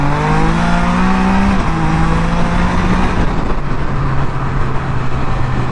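A loud Can-Am Spyder F3 three-wheeled motorcycle engine downshifting, its pitch stepping down through gears with a rough, continuous exhaust roar close by.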